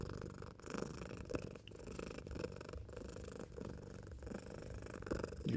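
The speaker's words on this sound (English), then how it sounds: "Get that deep purr going." A cat purrs deeply and continuously right up against a microphone, a close, rumbling, steady purr with slight rhythmic pulses of breathing, with no voices present.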